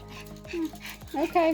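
A dog vocalizes in a house with short whining, yipping calls in bursts, close by, mixed with a person talking.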